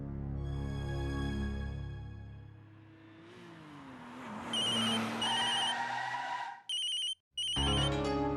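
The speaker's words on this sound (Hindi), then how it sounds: "फोन आया" A telephone ringtone rings loudly in repeated bursts over a car engine that revs and fades, with no talk during the ringing.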